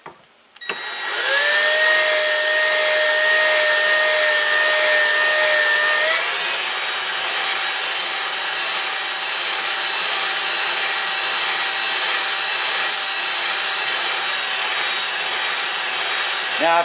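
A power drill in forward mode whirs loudly and steadily up close, turning a brass screw in a gun barrel, its motor pitch dipping slightly a few seconds in and then holding level.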